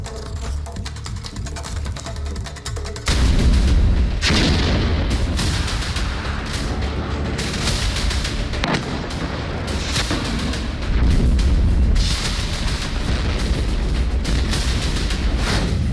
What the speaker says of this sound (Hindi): ये रूसी टैंक हैं जिन पर हवाई हमला किया गया है